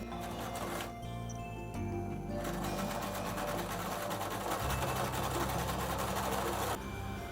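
A domestic sewing machine stitches along ironed sun-dress straps, its steady mechanical whirring running continuously at close range with a brief pause and a shift in motor pitch midway.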